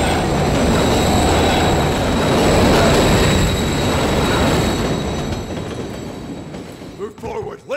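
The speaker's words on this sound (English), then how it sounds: "Pushing up the train tunnel." A train rolls loudly through a tunnel in Call of Duty Modern Warfare 3, a dense steady rumble with wheel squeal that fades slightly near the end as faint game sounds break through.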